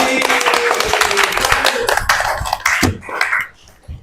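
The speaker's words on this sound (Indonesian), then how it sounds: "Oke, tepuk tangan lagi." A school class claps hands together, loud and close for about three seconds before stopping abruptly, with some voices mixed in.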